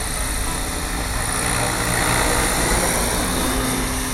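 A Gaui 550 RC helicopter hovers in flight, giving a steady, continuous whine and rotor drone at constant power throughout with no talk.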